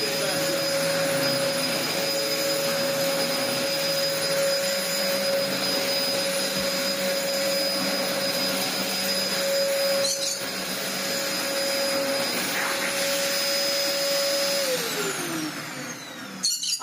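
A Dyson DC04 upright vacuum cleaner in daily use runs loud and steady with a constant motor whine and airflow roar, then spins down near the end.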